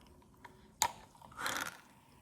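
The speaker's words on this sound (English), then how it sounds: "They're just made out of candy, and you can bite them." A candy straw from a Carnival cruise ship is bitten and crunched: one sharp crack, then a longer grinding crunch, both close and fairly quiet with no talking.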